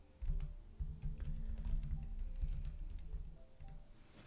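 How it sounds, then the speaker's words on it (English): Rapid typing on a computer keyboard during a Minecraft session, a dense run of soft clicks and thumps with brief pauses, close and steady over a low background hum. "Oh, my typing's so slow."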